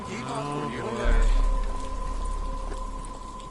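Steady rain hisses throughout a rainy night scene in Batman Arkham Asylum, a broad even wash that swells briefly louder near the start, heard under game characters talking and a sustained tonal hum.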